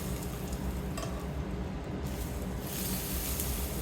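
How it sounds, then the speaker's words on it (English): Hot peanut oil at about 230 Celsius poured over chili pepper sizzles loudly and steadily, a dense crackling hiss with a brief stir-like swell near the end, no talking. "Listen to that sizzle"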